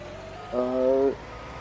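Truck engine idling in a farming video game, a steady harmonic hum that swells louder for about half a second mid-clip over a quieter continuous drone.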